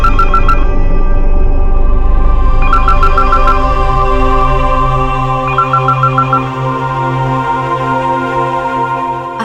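A mobile phone ringtone plays loudly and steadily, a repeating melodic tone pattern with no talk over it.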